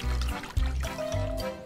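Water poured over hands as they are washed with soap in a Teletubbies cartoon. A short run of trickling and splashing plays beneath voices and music, in brief repeated bursts.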